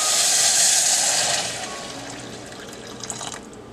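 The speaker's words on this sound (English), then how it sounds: "Now we have to add 4 cups of water to this Samo seeds." Steady rush of boiled hot water pouring into a pot of samo seeds, loud at first and then easing into a softer trickle with a few faint splashes near the end.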